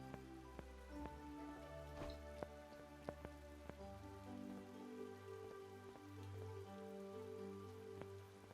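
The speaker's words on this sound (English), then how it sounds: "I'm curious now if you can, like, stop the rain." Rain falls steadily in the video game Mask of Mists, a soft continuous patter with a few sharper drops, while a low game music tone hums underneath.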